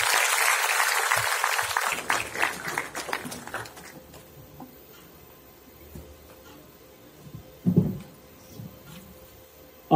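Audience applause welcoming a minister at a World Water Day 2021 event, a dense burst of clapping for about two seconds that thins into scattered claps and hall noise, with a brief louder thump near the end.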